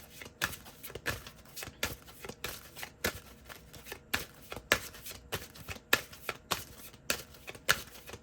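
Oracle cards being shuffled by hand in a steady run of crisp riffling bursts, close and fairly quiet, with no talking.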